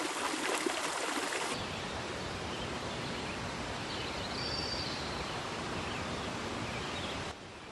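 A stream runs over stones among autumn-yellow birch trees, a steady broadband rush of flowing water heard fairly close and without voices.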